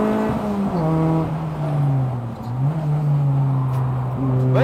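A budget front-wheel-drive race car is pushed hard through corners on a track, engine revving up and down with gear changes, loud and close, pitch dropping into bends then climbing again as it accelerates out.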